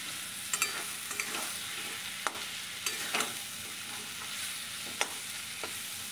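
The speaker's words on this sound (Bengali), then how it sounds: "আমি খুন্তি দিয়ে ভালো করে ঘেঁটে দিচ্ছি" Lote fish fries in a karai while a spatula stirs it. A steady soft sizzle runs throughout, broken by scattered sharp scrapes and clicks of the spatula against the pan.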